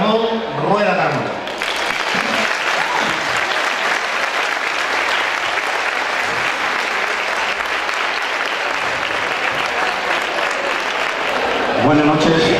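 Loud, sustained audience applause at an evening cherry festival event in Spain, greeting the festival's opening speaker, steady for several seconds before fading as a voice begins at the end.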